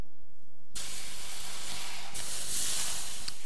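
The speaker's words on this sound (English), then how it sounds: "Steam's rising up, the liquid has now become gas." Steam rising from heated liquid, changing into gas, gives off a steady broadband hiss that starts abruptly and swells louder partway through, heard alone with no talk.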